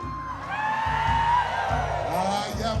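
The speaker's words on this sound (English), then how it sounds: "we gotta give them a nice, loud Samoan cheer" A crowd on a Honolulu, Hawaii trip gives a loud Samoan cheer, many voices whooping and bellowing together in a sustained rising shout with rhythmic drumming underneath.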